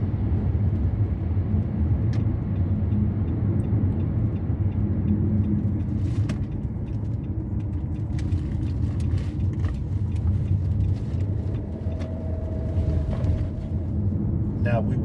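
A car rolls along the highway toward Carolina Beach, North Carolina, with a steady low road rumble and engine drone heard from inside. A few faint ticks and clicks sit over it.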